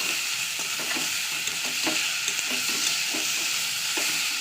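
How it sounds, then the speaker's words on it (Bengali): Ridge gourd seasoned with salt, sugar and turmeric is stirred in a hot pan, giving a loud continuous sizzle broken by quick, regular spatula scrapes up close. "এবার এটা নাড়াচাড়া করতে লাগবো।"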